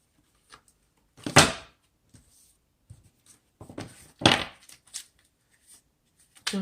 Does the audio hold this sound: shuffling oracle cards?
yes